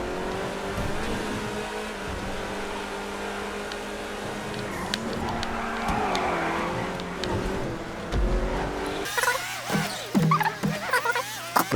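The Grotti Cheetah Classic sports car drives in a video game: a continuous engine hum with gear shifts and rising revs, a rushing passage midway, and scattered tire and impact noises toward the end, with no voices.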